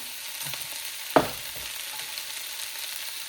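Spices including salt, coriander-cumin powder and chilli being stirred into tindora frying in a pan, a single sharp spoon scrape against the pan over a faint steady sizzle.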